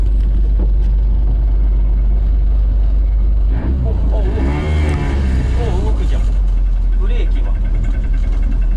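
A restored 1982 Mitsuoka BUBU501 three-wheeled microcar drives with its carbureted engine droning steadily underneath and rising briefly in pitch as it revs. A voice talks over it partway through.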